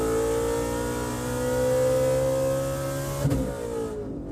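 A 950 hp Shelby GT350 pulls hard from 100 to 150, its engine rising in a loud, smooth climbing roar, then a sharp shift break and the note dropping off near the end.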